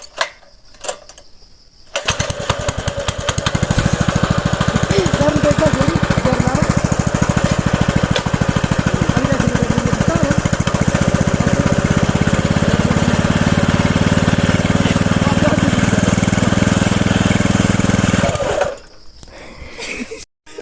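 A tractor engine runs loud and steady with a rough, chugging mechanical drone for most of the span, starting abruptly after a short quiet stretch and cutting off near the end, with a few faint voices around it.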